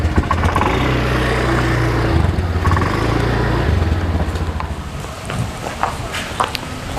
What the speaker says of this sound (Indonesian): Oh iya, motorku kan belum aku masukin.